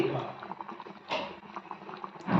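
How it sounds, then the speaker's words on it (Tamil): A pot of village-style fish curry bubbles and simmers up close, with soft, irregular popping and gurgling throughout and a few brief louder spurts. "மீன் குழம்பு இப்போ நல்லா கொதிச்சு நல்லா மீன் வெந்து வந்துடுச்சு."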